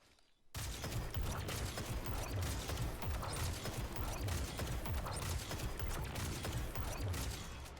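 Rapid weapon fire from triple swapping in Destiny 2, a dense continuous burst of shots and mechanical clatter starting abruptly after half a second and staying loud throughout.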